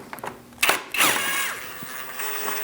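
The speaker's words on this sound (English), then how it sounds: "Using an 8mm socket, I'm going to remove this bolt and the same one on the other side." A socket wrench turning an 8 mm bolt on the radiator of a 2000-2006 Mini Cooper 1.6L, with sharp metallic clicks followed by a longer ratcheting whir and scraping, close and fairly loud.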